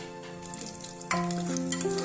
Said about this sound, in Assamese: ইয়াত মই দিছোঁ কিচমিচ, কাজু, আলমণ্ড, এই গোটেইখিনি দি ভালদৰে লৰাই দিম।